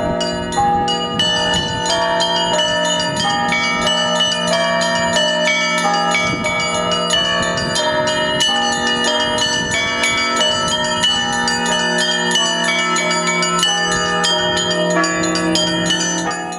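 Church bells ring loud and continuous at a bell consecration in Karmazinovka, their overlapping strikes and long resonant tones layered into a dense, unbroken peal.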